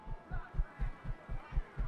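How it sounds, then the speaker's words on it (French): A ceiling fan turns in a hotel room in Apocalypse Now, its blades making a soft, rhythmic whup-whup thump, about four pulses a second, steady and muffled. "Le ventilateur tourne au plafond."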